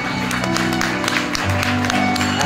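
Wedding guests clap after the cake cutting, brisk and continuous applause from a nearby crowd over a low humming background.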